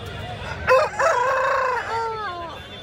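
Native chickens and roosters at a festival-season market, with one rooster crowing loudly and close over a busy background of clucking and crowd noise.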